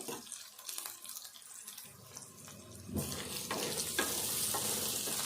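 Brinjal pieces frying in a pan give a continuous sizzle that swells louder and brighter partway through, with stirring scrapes and clinks and no talk.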